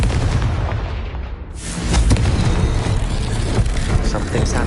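A Confringo fire spell blasts in Hogwarts Legacy, a loud booming burst after a brief swelling whoosh, then a sustained roaring rumble of battle noise.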